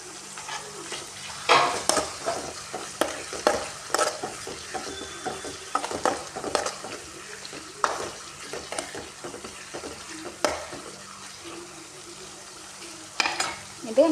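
Spices with turmeric and coriander powder fry and sizzle in oil in a pan while a spoon stirs and scrapes, giving irregular clinks and scrapes over a steady close sizzle, with no talk.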